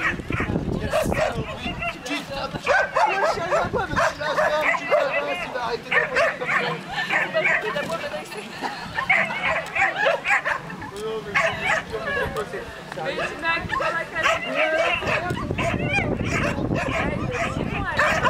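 A dog barks and yips repeatedly at a dog show, in loud irregular bursts mixed with whimpers, while people talk in French throughout.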